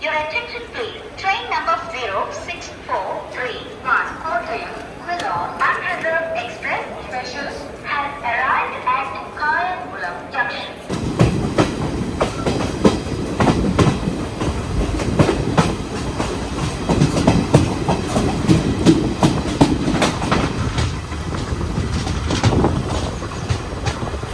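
A person talks at first, then a passenger train passes on Kerala's Munroe Island line, taking over with loud rumbling and rhythmic clickety-clack of wheels over rail joints.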